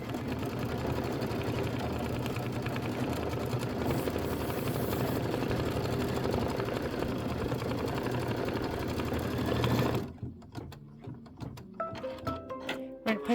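An embroidery machine stitches a leaf placement line on quilt fabric, giving off a steady mechanical whirring buzz for about ten seconds before it stops and is followed by softer clicks and handling noises.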